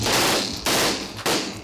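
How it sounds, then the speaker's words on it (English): Stun grenades used by SAS soldiers go off three times in a row, each a sharp loud blast with a broad crack and a rumbling decay, spaced roughly half a second apart with no talk. "Stun grenades, flashbangs, lots of various names, but they all do the same thing."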